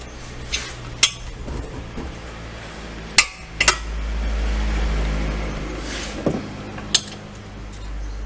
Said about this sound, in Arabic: مفتاح ملتي بون نجمة.